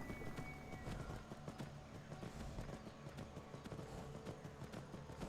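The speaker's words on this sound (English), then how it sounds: "Horses are great for getting up mountains in Skyrim." Horse hooves clip-clopping in a steady trot as a rider climbs a mountain path in the video game Skyrim, a quick repeating beat over a low background hum.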